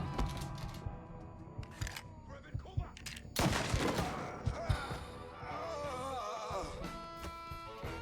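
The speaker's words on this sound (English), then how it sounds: "It's shotgun time!" Shotgun blasts in the video game Mafia 3 break out as sharp, loud bursts in a busy firefight, mixed with shouting voices and a musical score.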